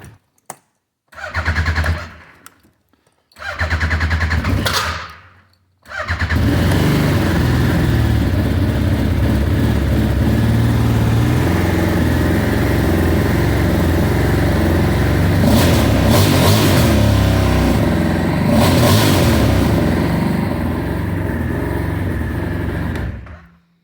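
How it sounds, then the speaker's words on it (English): A large Yamaha Vmax-4 snowmobile's 3-cylinder 1000cc four-stroke engine starts with a few short bursts, then settles into a loud, sustained roar with occasional revs, close by. "It's got the 3-cylinder 1000cc 4-stroke, which is also a really awesome engine"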